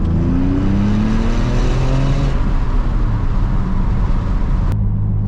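A stripped-down Porsche 996 Turbo runs and drives, its engine climbing through revs in loud, close rising sweeps with gear changes breaking the pull, then dropping off abruptly near the end.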